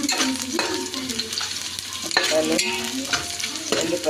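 Onions frying for bagara rice in a pan, a steady loud sizzle broken by repeated scraping stirs and clanks of a spoon, with no talking.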